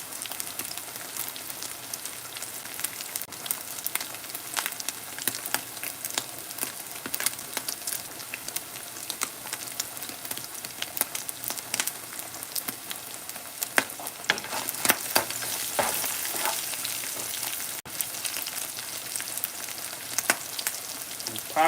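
Spaghetti sauce sizzles and pops steadily in a hot pan with a seasoning packet stirred in, a dense crackling hiss that swells louder about two-thirds through, with no voices.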